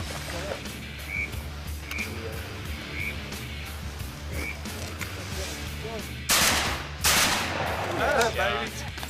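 Shotgun blasts while duck hunting mallards, two loud broadband bursts close together near the end, with calling ducks and outdoor background noise before them.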